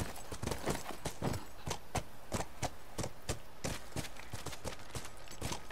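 Horse hooves clip-clop steadily in The Last of Us game, a brisk regular rhythm of sharp close hits continuing throughout with no talk over them.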